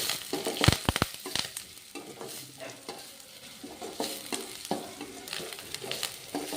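Onions and curry leaves fry over a low flame for tomato gojju, with a spoon scraping and stirring through a soft sizzle in irregular strokes, a few sharp clacks early on, close up and without speech.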